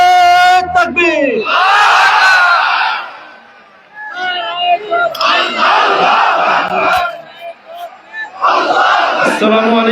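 A large crowd at a political rally in Dupchanchia, Bogura, roars a chanted response to a Naraye Takbir call in three loud, surging waves. A single voice leads before each wave.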